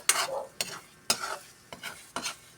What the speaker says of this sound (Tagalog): Yan, so hinahalo-halo ko siyang ganyan-ganyan lang.